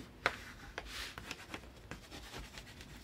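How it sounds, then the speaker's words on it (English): Paper folded over chipboard is burnished down with firm strokes, giving soft, close dry rubbing and scraping sounds with a few light taps over about three seconds. "start here in the middle, pull it down, burnish it."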